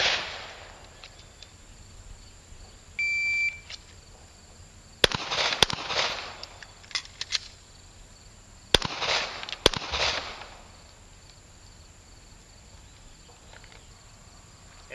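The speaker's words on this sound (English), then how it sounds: "we'll fire 2 shots, do a speed reload, fire 2 more shots" Handgun shots during a Marine pistol qualification on a range, a pair of sharp cracks, a pause for a speed reload, then two more cracks, heard at moderate distance over quiet outdoor background.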